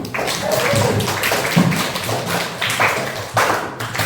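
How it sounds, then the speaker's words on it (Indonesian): Students in a classroom break into lively applause, a thick wash of overlapping hand claps that stays loud and continuous throughout, with a couple of sharper swells. "Tepuk tangan dulu dong"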